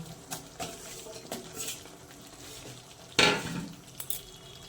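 Spice masala is stir-fried in oil for a vegetarian young jackfruit curry, with faint sizzling broken by several spoon scrapes and clinks against the pan and one louder burst of frying.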